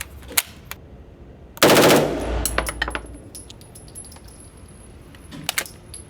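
A fully automatic machine gun fires one short, loud burst of rapid shots, followed by scattered metallic clinks and small knocks in a quiet outdoor space.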